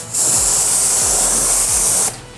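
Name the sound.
water spraying to rinse a car tire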